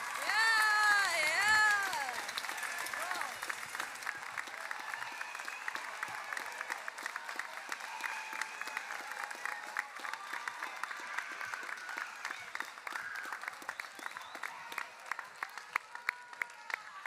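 An audience applauds at a 2021 high school graduation ceremony, a dense sustained wash of clapping with some cheering that starts right after a voice sings and carries on steadily for many seconds.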